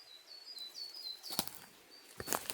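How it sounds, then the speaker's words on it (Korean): Birds call on a morning mountain walk: a thin repeated high chirping phrase, fairly faint and a little distant, joined by a couple of sharper nearby rustling bursts, with no talk. "이제 물소리도 작아졌고 새소리는 더 커졌습니다."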